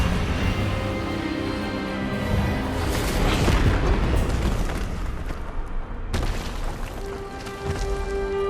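Expelliarmus spell effect in Hogwarts Legacy, a loud rumbling magical blast that swells in the middle and trails into a low resonant hum, with no talk over it.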